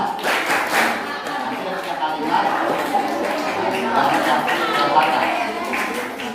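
Students at a madrasah Ramadan gathering chant the rhythmic 'tepuk puasa' clapping routine, a dense run of group claps mixed with chanting voices, steady and close throughout.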